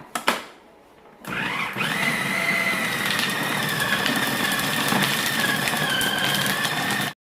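A steady, loud motorized whirring starts after a brief pause and runs continuously, a food grinder churning thick beef meatball dough without any talk.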